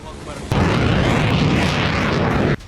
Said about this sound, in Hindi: धमाके पर धमाका।